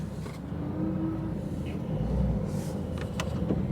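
Koenigsegg Agera with a manual gearbox pulling away in first gear, a steady low engine rumble heard from inside the car, rising slightly as it moves off, with no talk.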